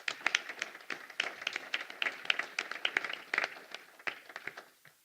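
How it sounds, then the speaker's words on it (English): Applause from an audience at a business event honouring strategic partners, a dense run of close clapping over about five seconds that thins out toward the end. "So how about a round of applause to our strategic partners?"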